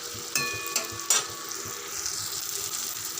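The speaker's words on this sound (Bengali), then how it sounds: "একটু রসুন দিয়েছি পেঁয়াজের সাথে ভাজা হচ্ছে" Onion and garlic frying in a pan, a steady close sizzle with a few sharp clicks and scrapes from stirring near the start.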